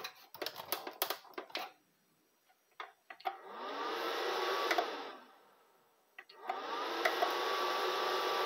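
A Positivo desktop computer switching on, its fan whooshing up in two sustained stretches of broadband noise, separated by a short quiet gap and preceded by scattered clicks and taps.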